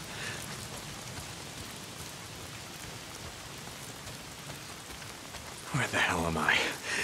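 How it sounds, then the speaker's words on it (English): Steady rain patters in the Days Gone open-world game, a soft even hiss of drops holding throughout before a voice starts talking over it near the end. "Why is it always raining?"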